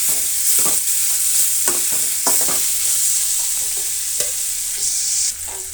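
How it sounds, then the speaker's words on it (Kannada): Carrots and tomato fry in a pan while a spoon stirs them, making repeated close scraping strokes over a loud, bright, steady sizzle that dips briefly near the end, with no talking. "ಕ್ಯಾರೆಟು ಫ್ರೈ ಆದ ಮೇಲೆ ನಾನು ಟೊಮೆಟೊನ ಸೇರಿಸ್ತಾ ಇದ್ದೀನಿ."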